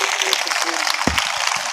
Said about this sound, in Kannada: ಒಂದ್ಸಾರಿ ಜೋರು ಚಪ್ಪಾಳೆ ತಟ್ರಿ ನೋಡೋಣ.